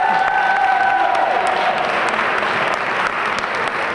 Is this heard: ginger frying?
no